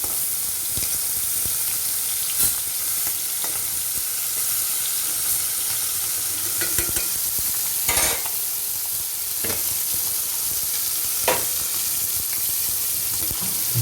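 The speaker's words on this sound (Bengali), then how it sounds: "মাছটা আমি দেখো মাছ দিয়ে দিয়েছি এটা ভাজা হয়ে যাবে আস্তে আস্তে সব" Fish frying slowly in a pan for a Bengali mustard-poppy fish curry, with a steady low sizzle and occasional sharper crackles and stirring clicks throughout.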